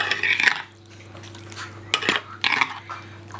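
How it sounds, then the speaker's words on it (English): Yogurt being stirred into a dish, with a spoon clinking and scraping against the bowl in short bursts separated by quiet, over a faint steady hum. "Stir in all of the yogurt."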